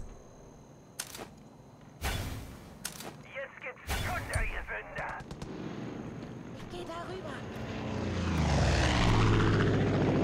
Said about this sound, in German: Luftunterstützung im Anflug.